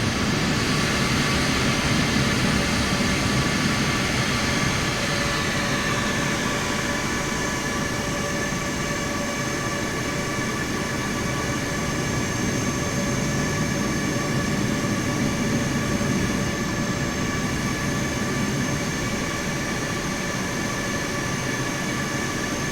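Airliner jet engines roaring steadily in Microsoft Flight Simulator with thrust reversers deployed, a loud sustained whine and rumble with layered tonal hums running unbroken, no voices.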